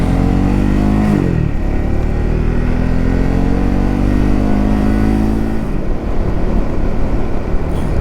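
A Triumph Speed 400 motorcycle rides along a road, its engine loud and close with a smooth drone that climbs in pitch, dips at two gear changes, and pulls again under steady wind noise.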